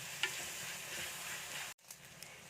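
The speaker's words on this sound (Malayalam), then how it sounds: "ശരിക്കും ഇതിൻ്റെ പച്ചക്കുത്ത് മാറുന്ന വരെ നമുക്കിതൊന്ന് നല്ലപോലെ ഒന്ന് വഴറ്റിയെടുക്കണം." Crushed garlic and ginger sauté in a hot pan, a steady close sizzle with a few stirring scrapes, broken by a brief silent gap before the frying resumes.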